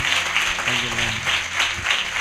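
A church congregation at a worship service claps loudly and steadily in rhythm, a dense wash of hand claps under music and a leader's voice.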